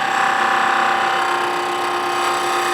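Wood lathe spinning while a gouge makes a heavier cut, a steady close whine with a constant pitched hum and faint rasping texture throughout, no talk.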